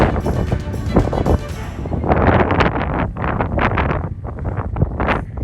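Gusty outdoor wind buffets the microphone in loud, rough rushes, fluctuating in strength throughout.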